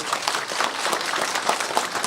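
Audience clapping at a community talk concert, a dense, steady patter of many hands filling the whole stretch at moderate loudness, with no break and no talk over it.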